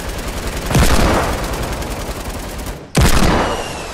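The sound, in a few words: gunfire in the video game Fortnite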